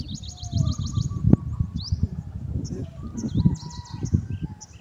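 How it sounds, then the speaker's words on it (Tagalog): Wild birds chirp and trill outdoors in repeated quick high calls, with a sharp call standing out, under someone talking and low rustling and wind-like rumble. "Ayun, may mga nasiyap na ibon"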